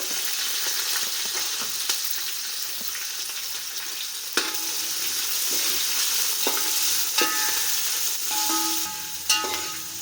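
Chopped onions frying in hot oil for chicken pulao, a steady close sizzle running throughout with scattered clinks and scrapes of a spoon stirring the pan.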